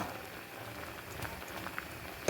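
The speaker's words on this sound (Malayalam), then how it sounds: "ഇപ്പോൾ കണ്ടോ നമ്മുടെ കപ്പങ്ങയുടെ കഷ്ണമൊക്കെ നന്നായിട്ട് തിളച്ച് വന്നിട്ടുണ്ട്." Chunks of tapioca boil in a pot for a Palakkad-style curry, a steady bubbling, gurgling wash of liquid heard close and fairly quiet, with a slightly sharper pop near the end.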